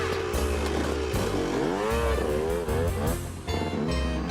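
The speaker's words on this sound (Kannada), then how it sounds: "ಅಯ್ಯೋ ಬೈಕ್ ಬಂದಾಕ್ಬಿಟ್ಟಲ್ಲ" Motorbike approaching in a Motu Patlu cartoon: a loud, close engine whine whose pitch wavers up and down as it rises, buzzing steadily for several seconds.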